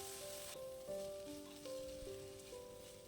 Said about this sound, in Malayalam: അതുപോലെ ലോ ഫ്ലെയിമിൽ തന്നെ ഇട്ട് വഴറ്റുക.